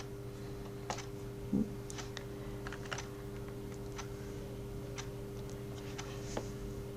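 Sparse, isolated keystrokes on a computer keyboard while editing cell text in an Excel spreadsheet; about eight quiet clicks are spread over several seconds above a steady electrical hum, and no one talks.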